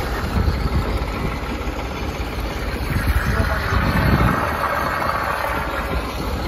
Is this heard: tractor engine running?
yes